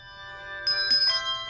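Handbells played by a handbell choir ring out in sustained, shimmering tones, with several fresh strikes layering over a lingering chord, fairly loud and close, with no talking.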